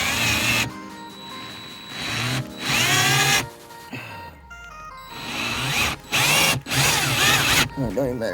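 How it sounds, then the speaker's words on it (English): A power drill bores into the snapped-off shaft of an M2C Racing shock in repeated loud, close bursts, with short pauses between runs of whining drilling. "You drill down in there, get you a hole, 1/4 inch deep"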